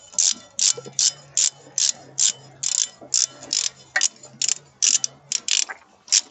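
Rapid ratcheting clicks from a hand tool tightening a retaining screw on a newly fitted car brake disc, a steady series of about fifteen short bursts, close and fairly loud with no talking.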